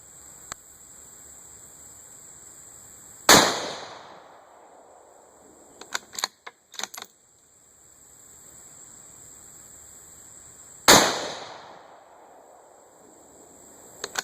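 Two sharp rifle shots from a Ruger American Ranch rifle firing a group at the range, spaced several seconds apart, each loud blast ringing briefly over a faint hiss, with a few light clicks of bolt handling between them.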